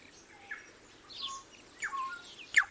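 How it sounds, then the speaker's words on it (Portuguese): New Zealand forest birds such as tui and kokako give sparse, faint chirps and whistled notes against a quiet background, with a sharper call near the end. "O tui era famoso por seu repertório de cantos, assim como o cacaco."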